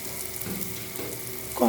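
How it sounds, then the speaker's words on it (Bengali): Vegetables frying in a pan for a vegetarian sabur polao, with a steady close sizzle throughout and a louder stirring or scraping burst near the end. "এবার এগুলোকে আর একটু ভেজে নিচ্ছি।"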